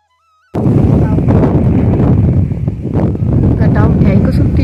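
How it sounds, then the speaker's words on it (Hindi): Strong storm wind blowing outdoors in a village, loud buffeting gusts battering the microphone in a rough, continuous roar that swells and dips after a brief quiet start. "मस्त आंधी चल रही है।"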